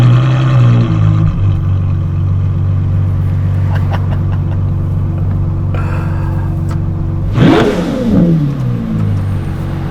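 Novitec Ferrari F12 N-Largo supercar engine revving loudly and close by, a steady deep drone that swells into a sharp, rising rev burst near the end before settling back.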